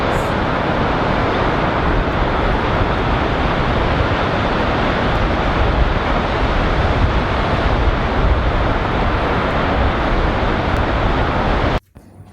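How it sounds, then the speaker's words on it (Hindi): Stormy ocean waves roar in a loud, continuous wash of surf and wind-like rumble that stays constant, then cuts off abruptly near the end. "लहरों की आवाज,"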